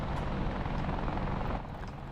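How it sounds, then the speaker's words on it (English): Helicopter turbine engine spooling up in the DCS World flight simulator, a steady loud broadband whine and rumble that holds continuously throughout without talk. "We'll see the engine control light come on and the engine spooling up."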